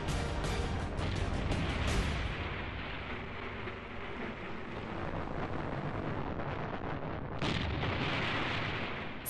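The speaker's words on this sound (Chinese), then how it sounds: "随着一阵巨大的爆炸声，所有人都惊呆了。" The Long March 2 rocket exploding on its first flight: a massive roaring blast that rumbles continuously for several seconds, loud and broadband, with a further surge of noise near the end.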